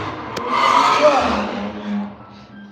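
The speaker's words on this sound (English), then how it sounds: "This is why I actually hate where I live, because it's so loud with these stupid cars." A loud car drives past outside an apartment, its engine note swelling and fading over a couple of seconds, heard muffled from indoors.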